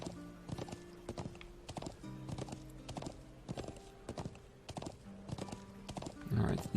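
Horse hooves clip-clopping in the video game Trails of Cold Steel, a steady rhythmic run of close, crisp hoof strikes over a faint musical backdrop, ending with a short snort or whinny.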